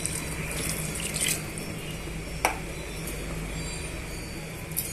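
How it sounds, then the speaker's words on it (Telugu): Water poured into a pot of mutton biryani, a steady soft liquid wash with a brief louder splash midway, close by and with no voices. "ఒక గ్లాసుకి ఒకటి ముక్కాలు భాగం వాటర్ పోసుకుంటున్నానండి"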